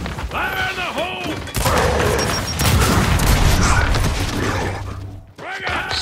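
A grenade goes off in a Gears 5 firefight, a loud broadband blast sustained for several seconds amid clattering debris, with shouting voices before and after.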